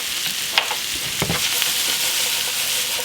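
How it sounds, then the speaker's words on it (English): Onions and mushrooms sizzle together in a pan, a close, steady frying hiss with a few soft clicks of stirring over about three seconds. "We're going to get these frying together."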